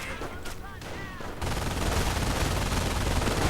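Gunfire from a World War II strategy video game match, with riflemen, volksgrenadiers and a sniper engaged: a steady dense crackle of rifle and automatic fire that swells louder partway through, with a voice heard faintly early on.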